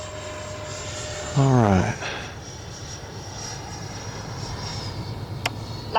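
An RC MiG-29 twin 64mm jet flying at three-quarter throttle in low light, a steady high whine of the engines throughout, with someone speaking briefly over it.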